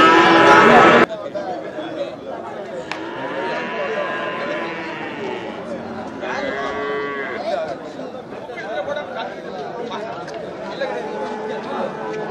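A Jersey cow moos loudly at the Melapalayam cattle market near Pongal, one long call rising over steady crowd chatter and nearby voices, followed by further lowing amid the market hubbub.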